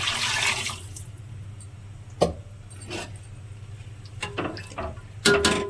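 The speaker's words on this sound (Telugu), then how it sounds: "రెండు గ్లాసుల బియ్యానికి మూడు గ్లాసుల వాటర్ వేసుకోవాలి" A brief splash of water pouring into a pot of rice at the start, then a quiet room with a few soft knocks and clinks.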